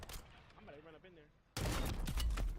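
Gunfire in a competitive Call of Duty Warzone match: a dense, loud burst of shots erupts suddenly about halfway through and continues to the end, with a quieter talking voice before it.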